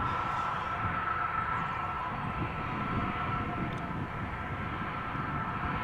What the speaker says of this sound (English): A330, 300, going to Minneapolis.